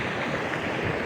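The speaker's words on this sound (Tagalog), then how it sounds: "Ang lakas-lakas ng tubig sa baba." Steady, broadband rushing of water fills the moment, a constant roaring wash with no voices.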